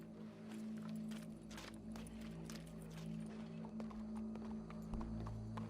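Horse hooves clip-clop steadily at a moderate distance in Red Dead Redemption 2, faint and rhythmic over a low droning game soundtrack, with no clear neigh.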